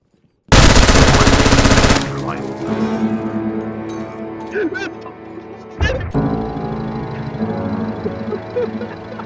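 Rapid automatic gunfire in the video game Zero Hour, a loud burst of close machine-gun fire followed by scattered shots, clinks and clatter, with voices talking in the background.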